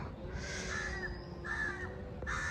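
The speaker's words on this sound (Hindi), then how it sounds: "कौवा जो है ना सुबह से इस पेड़ से उस पेड़ पर जाकर बैठ कर काँव काँव कर रहा है।" A crow sitting in a tree caws three times in harsh, drawn-out calls on a sunny morning. Steady outdoor background noise sits underneath.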